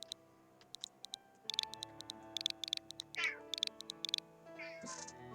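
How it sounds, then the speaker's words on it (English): A pet cat meows a few times, faint and picked up through a microphone, amid steady rapid ticking and clicking from a keyboard or mouse. "Don't know if any of you guys can hear my cat meowing at me through the mic"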